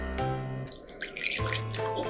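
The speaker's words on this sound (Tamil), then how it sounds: "கொஞ்சம் தண்ணி விட்டுக்கலாம்." Water pours into a blender jar holding aloe vera and a small piece of ginger, a short close trickle and splash that stops and briefly resumes.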